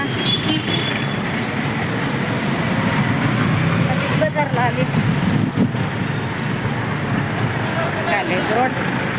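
Busy town road traffic near a Big Bazaar store, a loud continuous rumble of passing vehicles with a few horns and faint voices in the mix.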